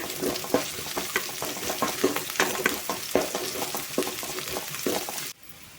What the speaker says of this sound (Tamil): நல்லா ப்ரௌன் கலர் வர வரைக்கும் சின்ன வெங்காயத்தை வணக்கிக்கோங்க